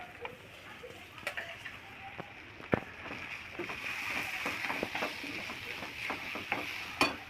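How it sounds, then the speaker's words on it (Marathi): Onion frying in oil in a pan, a quiet, soft sizzle under scattered clicks and scrapes of stirring, close but faint, with a few sharper taps. "आता कांदा तेलामध्ये परतून झालेला आहे"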